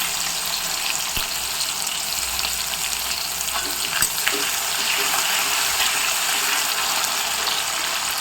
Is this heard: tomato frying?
yes